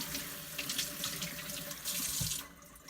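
Tap water runs steadily into a sink while something is rinsed during a backyard poultry processing session, a continuous close splashing hiss that shifts slightly in tone before easing off near the end.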